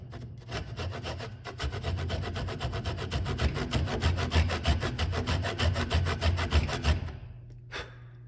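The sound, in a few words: tenon saw cutting wood for a mortice and tenon joint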